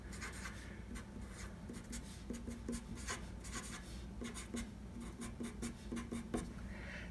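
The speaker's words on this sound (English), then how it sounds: "I'm going to have to write that on another piece of paper." A pen or pencil scratches steadily across a sheet of paper during a math exam review, with quick strokes and short pauses and no talking.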